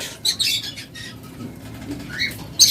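A pair of lovebirds gives short, high, bright chirps and squeaks in quick bursts, close by, over a steady low room hum.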